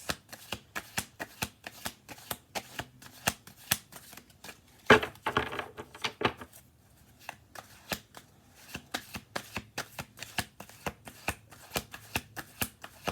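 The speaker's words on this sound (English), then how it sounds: "I'm gonna do 2 more shuffle throughs on this." A deck of playing cards being shuffled repeatedly, with crisp riffling bursts and snapping clicks in a steady rhythm, close and clear, with a louder flurry midway.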